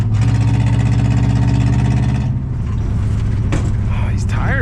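A junkyard Chevy Impala wagon engine runs rough and loud at close range. Its drone shifts midway through as the throttle changes.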